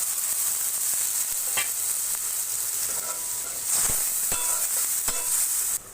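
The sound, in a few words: frying onion, chili with cumin, garlic, turmeric, chili powder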